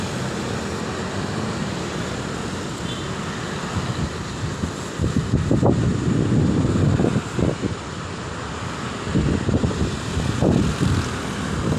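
Steady wind rushes across the microphone with a low roar, swelling into louder buffeting gusts midway and again near the end.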